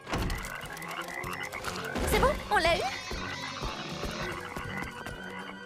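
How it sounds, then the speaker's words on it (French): Frog croaking in a school scene near the boys' locker room, a few loud croaks in the middle of the clip, mixed with music and overlapping speech. "Grenouille."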